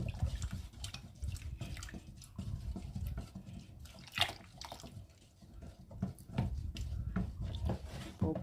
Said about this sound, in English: I will be pouring my light solution now